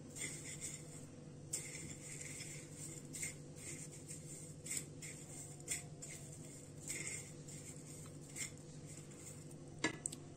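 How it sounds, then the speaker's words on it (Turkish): Chicken pieces pressed one by one into corn flakes for crispy fried chicken, giving a steady crackly rustle with light clinks of dishes over a low background hum, no voices. "mısır gevreklerime tavuklarımı buluyorum. Şu şekilde tek tek."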